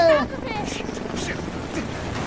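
A helicopter's rotor in the video game Rise of the Tomb Raider thumps steadily in a low rhythmic drone after a brief voice at the start, with faint babble in the background.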